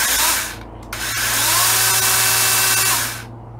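A DeWalt 20V MAX XR cordless electric chainsaw whines up in short bursts, then runs steadily at a high-pitched buzz for a couple of seconds before winding down.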